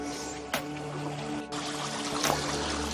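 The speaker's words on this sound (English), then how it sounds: "This is a super cool creek to hike up. I mean, it's just low flow" Shallow, low-flow creek water running over a slate bottom, a close steady babble and trickle with a couple of brief splashy bursts, heard alone with no talking.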